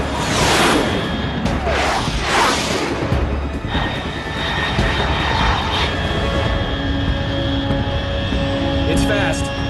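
An aircraft in the Metal Gear Solid 3 video game streaks past overhead, with several loud whooshing jet sweeps early on that give way to a steady engine roar and a background tone.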